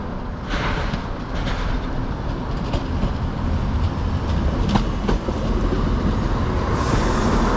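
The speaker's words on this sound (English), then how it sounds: "So the next train, here it comes." A passenger train on the Derwent Valley railway line heading toward Matlock approaches, with a steady rumbling roll and a few rail clicks, growing gradually louder over several seconds with no talk.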